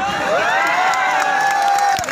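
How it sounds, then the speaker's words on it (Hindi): A crowd at a political speech about JNU erupts in loud cheering and whooping, a strong sustained rising yell of many voices filling the space for about two seconds. "तो बजाओ ताली"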